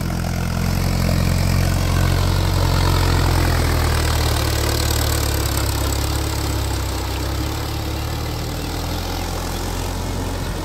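A tractor engine runs steadily in a rice field being prepared for planting, a continuous low rumbling drone holding at a fairly even level throughout.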